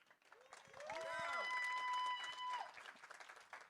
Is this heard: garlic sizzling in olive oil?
no